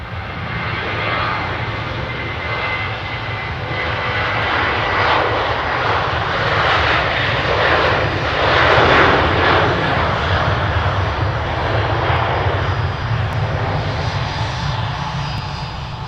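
Airplane engines roaring during an early morning departure takeoff, a loud steady broadband roar that builds and swells toward the middle and holds, heard alone without talking.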